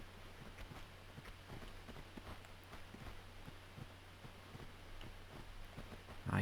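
Faint, steady footsteps in the video game Tomb Raider II, evenly paced soft thuds over a low background hum.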